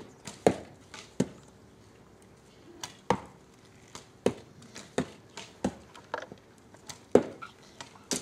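Archers at a historical reenactment at Szigliget draw and loose bows in a volley, giving a run of sharp, close snapping thwacks at irregular intervals, a dozen or so distinct hits, each with a brief ringing tail.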